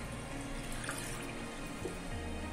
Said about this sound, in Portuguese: 150 ml de água quente, tá? Que é para ajudar a dissolver aqui.